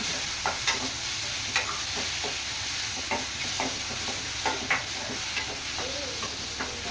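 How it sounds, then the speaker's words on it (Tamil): Ginger garlic paste sautéing in a pan for cauliflower gravy, a constant frying sizzle and hiss with regular scraping stirs of the spoon, close and without talk. "இதையும் சேர்த்து நல்லா வதக்கிக்கலாம், சரியா?"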